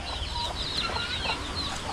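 Farm chickens, hens kept with newly hatched chicks, cluck softly in a rapid, uneven series, faint and a little distant over a low background hum.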